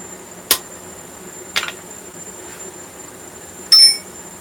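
A hammer strikes an eyeball punch into hot forged metal, sharp ringing metallic blows, a few distinct hits separated by pauses, with a longer bright ring at the end.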